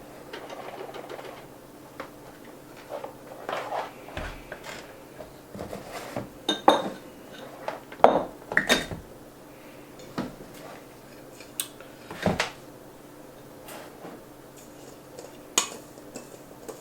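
Dry ingredients being mixed into wet ingredients in a bowl, with scattered clinks and scrapes of a utensil against the bowl at an irregular pace, moderately close with quiet stretches between.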